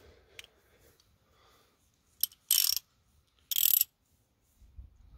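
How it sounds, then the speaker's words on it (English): A ratchet wrench loosening bolts on Ford F-150 4x4 brakes gives a few short bursts of rapid clicking, separated by quiet pauses, close by. "So just pass me the regular ratchet, please, Joe."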